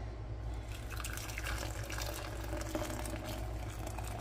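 Hot water is poured into a French press to make coffee with a sliver of chocolate, a steady close splashing and trickling fill that runs without talk for about four seconds.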